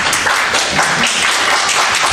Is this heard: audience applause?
yes